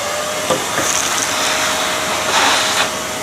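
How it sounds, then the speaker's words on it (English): A steady vacuum cleaner drones close by with an even roar, sucking coffee grounds out of a DF54 coffee grinder, broken by a few faint knocks and rattles. "So I'm going to get a vacuum cleaner, and then we'll suck out all the coffee powder."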